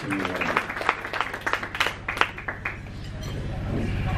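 At an election eve campaign gathering in Markham, a burst of scattered clapping rises over crowd murmur and voices, then fades back into the babble.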